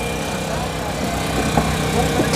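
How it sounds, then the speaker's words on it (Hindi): A street juice machine grinds grapes at a busy food stall, giving a steady mechanical motor drone with some clattering, under nearby chatter and crowd noise. "ये जनाब, ये देख रहे हैं आप, ये ग्राइंड हो रहा है"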